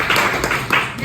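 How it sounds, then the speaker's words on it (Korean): Brief bursts of clapping from a workshop group, a few quick rounds of hands clapping close by with a short pulsing rhythm over a second. "박수 한번 쳐드릴까요?"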